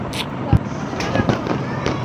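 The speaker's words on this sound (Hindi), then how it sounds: "ये देखो इनको इतना डर लगता है पटाखे जलाने में, पर जलाना है" A few sharp Diwali firecracker pops burst at irregular moments outdoors, with faint voices and background chatter between them.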